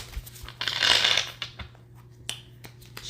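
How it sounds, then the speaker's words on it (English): Tarot cards riffled and shuffled by hand at close range, a dense burst of papery flutter with sharp snaps and taps, then quieter, scattered card clicks. "So I'm just going to shuffle a little bit, and we are going to cut our cards"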